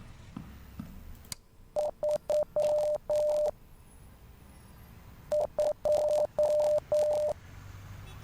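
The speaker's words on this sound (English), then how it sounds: "Alright, that's Morse code." Steady electronic beeps in the horror game Rise of Insanity tap out a Morse code pattern in two clear bursts of short and long tones, each sequence separated by a pause, loud and close with no voices.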